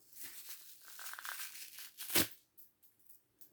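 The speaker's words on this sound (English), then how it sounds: "I think paper's satisfying to rip too" Paper is ripped up close in a quiet room, a soft crinkly tearing that builds to one sharp, loud rip, followed by faint rustling.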